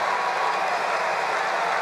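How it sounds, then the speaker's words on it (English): Tennis crowd applauding at an Angelique Kerber match against Ajla Tomljanovic, United Cup 2024 semifinals: a steady, dense wash of clapping from a large arena audience, even and sustained throughout with no voices standing out. "But I can see you applauding that"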